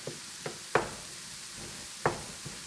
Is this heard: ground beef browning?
yes